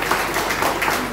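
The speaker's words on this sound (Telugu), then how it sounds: "అమ్మకి ఈ సందర్భంలో చప్పట్లు కొట్టుకోవాలి" Applause at a memorial ceremony, a steady wash of many hands clapping together at moderate loudness for a brief stretch, with no break in the sound.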